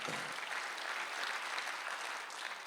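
A church congregation at a Sunday worship service applauds in a brief, steady burst of many hands clapping together, fairly soft and even, with no voices over it.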